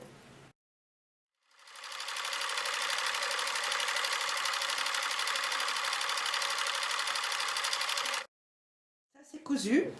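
Sewing machine stitching a seam along the edge of a crystal PVC pouch trimmed with lace, a steady rapid needle chatter running for several seconds between short silences, with a brief voice at the end.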